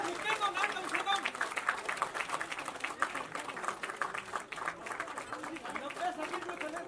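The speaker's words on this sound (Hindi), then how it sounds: "तालियां" Audience clapping at a book launch event, a dense steady patter of many hands sustained throughout with crowd murmur mixed in, moderately loud and fairly close.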